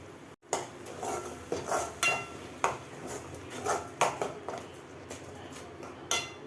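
A spoon stirs ground masala and rock salt in a pan for a fish curry, giving a series of light metallic clinks and scrapes at an uneven rhythm over quiet background.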